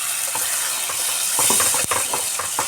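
Sweetened water goes into frying masala in a pan for an egg-stuffed omelette curry, giving a bright continuous sizzle with stirring scrapes and a sharp utensil clack near the end.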